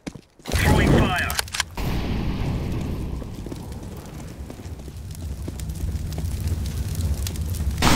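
Incendiary grenade fire burning in Counter-Strike: Global Offensive, a loud sustained roaring crackle that bursts in after a short thump and keeps going steadily at the same level.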